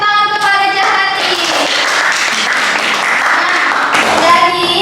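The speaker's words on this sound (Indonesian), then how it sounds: "Beri tepuk tangan" A classroom audience claps together during a micro-teaching lesson on three-variable linear equations, a dense burst of applause that fills the clip, with brief tonal voice-like sounds at the start and end.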